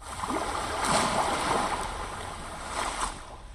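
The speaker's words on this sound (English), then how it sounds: "I did add this ocean sound" An ocean waves sound effect layered into a hip-hop beat, a steady soft wash of surf with gentle swells rising and falling, alone and moderately quiet.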